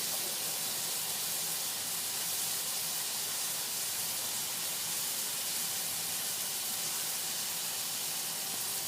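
A steady, even hiss of a cod fillet frying in a hot pan continues for the whole stretch, soft and unbroken, with no talking.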